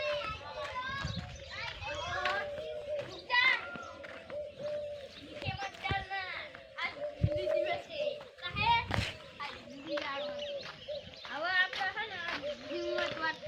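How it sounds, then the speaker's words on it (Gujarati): Children play in sand outdoors, their high voices chattering and calling almost nonstop at close to middle distance, with birds cooing and chirping underneath and occasional knocks. "મસ્ત મજાના છોકરા રમે અત્યારમાં રેતીમાં."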